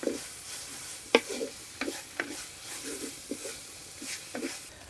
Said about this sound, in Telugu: మసాలా ముద్ద కూడా వేసేసుకుందాం ఇది పచ్చివాసన పోయే వరకు రెండు మూడు నిమిషాలు వేయించుకోవాలి